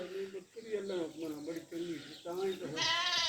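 Goats at a farm bleat, several nasal, wavering calls in quick succession, close and fairly loud, with people talking alongside.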